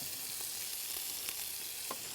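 Pork for cowboy chili frying and rendering down in a pot: a steady, soft sizzle with faint pops and occasional stirring clinks, continuous and even throughout.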